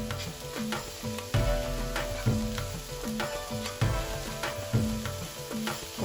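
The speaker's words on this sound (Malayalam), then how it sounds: "ഇതെല്ലാം ഇട്ട് നന്നായിട്ട് ഒന്ന് മൂപ്പിച്ചെടുക്കണം." Shallots and chopped green chilies sauté in hot oil for Kerala ulli theeyal, a steady close sizzle broken by regular scraping stirs of a spatula in the pan.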